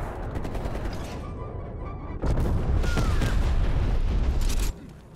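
Heavy artillery and a napalm strike in Call of Duty Black Ops Cold War on the Nuketown '84 map during a Domination match: dense rumbling barrage and fiery roar that swells suddenly midway, loud and sustained, then cuts off near the end.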